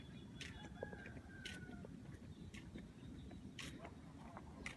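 Distant geese and turkeys honk and gobble intermittently from a rice paddy over a steady outdoor rumble, with occasional faint voices.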